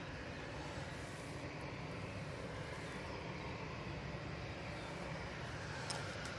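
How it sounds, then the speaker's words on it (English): A Ryanair airliner arriving from Belfast at Manchester Airport, a steady, distant broadband roar of jet engines holding at an even level throughout. "This is the Ryanair coming in from Belfast."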